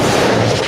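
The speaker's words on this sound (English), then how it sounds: "Let me go ahead and fire those cannons, Dominic." A single loud, booming cannon blast fills a brief moment, played as a sound effect on a live sports radio show, with no talking over it.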